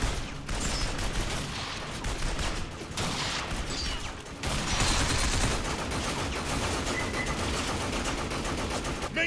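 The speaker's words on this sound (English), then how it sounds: "Maintain heavy fire!" Heavy gunfire rattles through a firefight in Binary Domain, dense overlapping automatic bursts with brief pauses, loud and continuous across the whole stretch.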